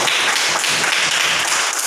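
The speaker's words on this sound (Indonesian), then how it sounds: "Silakan tepuk tangan" Children in a classroom clap together in a dense, steady burst of applause, close and loud for the whole stretch.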